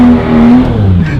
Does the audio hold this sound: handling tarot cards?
no